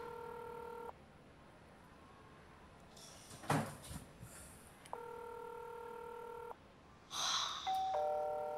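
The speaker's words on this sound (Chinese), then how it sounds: "他没接我电话。" A telephone call rings out with a repeating electronic ringback tone that comes in steady bursts separated by pauses, with brief handling rustles between them and no voices.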